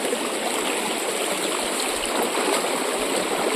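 Mountain stream water rushes steadily over rocks on Mount Bira Bira, a continuous close broadband hiss with no voices.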